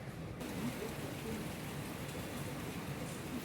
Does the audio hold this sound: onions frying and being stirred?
no